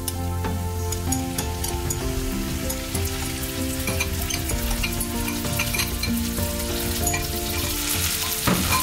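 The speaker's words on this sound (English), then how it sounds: "Just cook this until everything became fragrant." Loud, steady sizzling of kimchi fried rice being stir-fried in a hot pan, continuous crackling frying with scraping stirs throughout and no voice.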